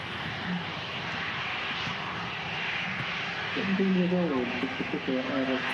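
An Aer Lingus airliner in its old livery rumbles as a steady, fairly distant engine drone, while people talk over it throughout.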